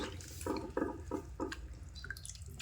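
Potato strips for french fries are swished and rinsed by hand in a bowl of water, giving four quick, soft sloshing splashes in a row followed by faint drips, quiet and close.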